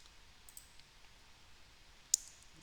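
A single sharp mouse click on a computer's next button, crisp and close, standing alone after a stretch of quiet room hiss.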